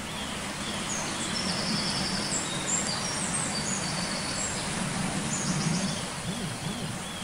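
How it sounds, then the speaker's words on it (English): Birds chirp and twitter faintly in the distance over a steady broad outdoor hiss, at the disused Knott Hill Reservoir in Ashton-under-Lyne. "You can hear all types of birds here"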